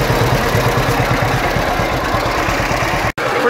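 A John Deere H two-cylinder tractor engine chugs loudly up close with a steady, lumpy low-pitched beat, briefly cutting out near the end.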